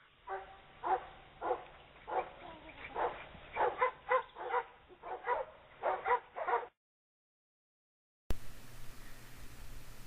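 A dog in a reward-based training session whimpers, yips and gives short barks in a steady series of close, rhythmic bursts lasting several seconds, then everything cuts to silence before faint background noise returns.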